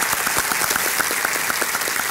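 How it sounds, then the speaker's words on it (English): An audience at a Rooster Booster breakfast gives a round of applause for the ambassadors, close, loud, steady clapping with a few rhythmic individual claps standing out throughout. "One more round of applause for all those ambassadors"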